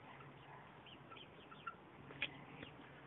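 A hen clucks softly a few times in a yard with a dog nearby, faint and somewhat distant over low background noise.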